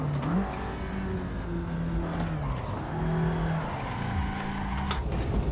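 A Mitsubishi Starion driven in the racing game Assetto Corsa, its engine droning steadily with shifting pitch as revs rise and fall, loud and continuous with some tire noise.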